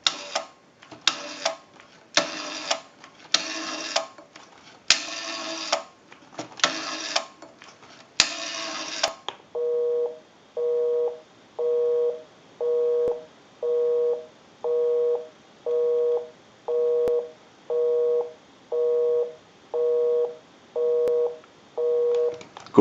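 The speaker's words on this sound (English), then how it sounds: "We'll call my number and it'll be busy." On an Automatic Electric three-slot payphone, a run of rapid dialing tones gives way to a steady busy signal, evenly pulsing beeps repeating about a dozen times, clear and close.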